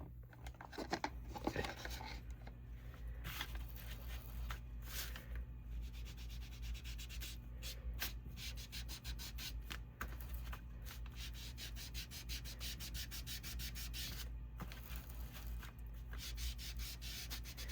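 Walnut Distress ink rubbed onto paper edges to age them, soft continuous scratchy rubbing strokes close up, with a few brief sharper scuffs and no talking.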